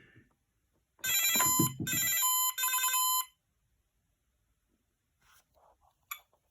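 A burst of bright electronic beeping tones from an 1980s Galaxian handheld arcade game plays for about two seconds in a quick melodic jingle, then near silence with a few faint ticks.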